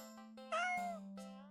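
A cat in a video game gives a couple of clear, close meows over a steady low background tone from the game.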